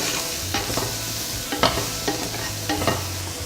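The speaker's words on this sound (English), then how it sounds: "Just give this a stir around the pan and let that saute for about 2 minutes" Red pepper flakes sauté in a pan with a soft, constant sizzle, while a utensil scrapes and taps against the pan in several separate strokes, close and clear, with no talking.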